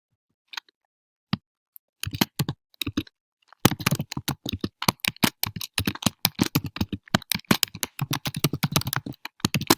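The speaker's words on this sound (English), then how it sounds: "Sorry, the typing is going to be kind of loud." Loud, rapid typing on a computer keyboard, a few isolated keystrokes at first, then a dense, steady run of close clicking keys with no talk.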